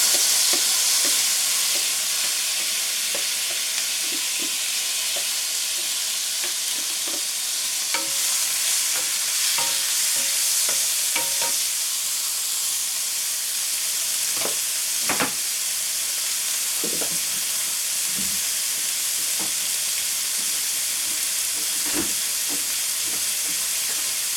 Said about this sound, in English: you're going to take the onions. That's the first thing you're going to fry.